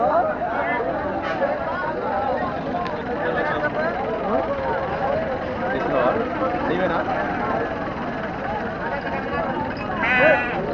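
Rams bleat intermittently in an outdoor setting, partly buried under continuous nearby conversation and background crowd noise.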